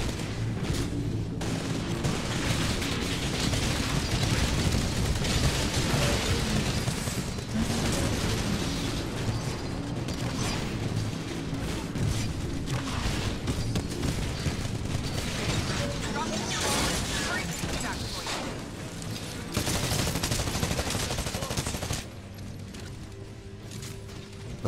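Continuous gunfire and mechanical clatter from a Titanfall beta match on Xbox One, dense and loud throughout with explosions mixed in, and faint voices under the din.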